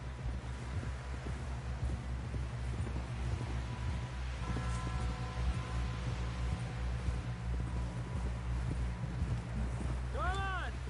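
Hooves clip-clop in a steady galloping rhythm from a horse in a video game, with wind rushing throughout and voices speaking over the ride.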